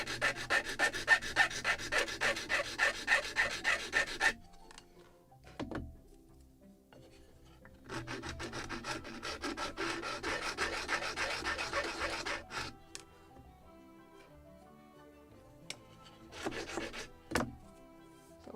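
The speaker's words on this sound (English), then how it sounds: "just will sand each edge and we'll create proper lengths first" Wooden yards for a Model Shipways kit model of the 1776 gunboat Philadelphia are sanded along their edges, giving soft rasping strokes in two sustained bursts separated by quieter handling and a few light knocks.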